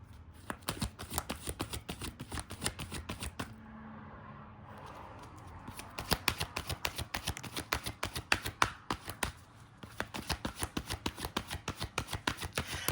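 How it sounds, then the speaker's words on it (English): Playing cards shuffled repeatedly in quick riffling bursts, a dense rapid patter with a short pause partway through, close and fairly loud. "I'm just shuffling the cards off camera."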